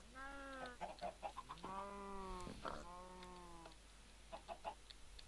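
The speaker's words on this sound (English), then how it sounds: "Come to me, chicken." Minecraft chickens clucking in a video game, several bright, repeated clucks and squawks close up, a few long drawn-out calls in the middle and shorter clucks near the end, with no talk.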